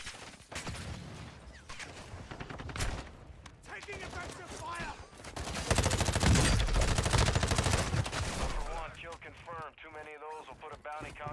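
Rapid bursts of automatic gunfire from bots in the Call of Duty DMZ game, loud and dense in the middle and intermittent elsewhere, with voices talking over the shooting.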